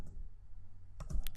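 Typing on a computer keyboard, with a few quick, close clicks in a short burst after a moment of near silence.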